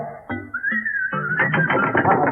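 A person whistles a short tune, one bright sliding tone rising and wavering, then quick melodic notes over a faint buzzing background, close and clear without talk.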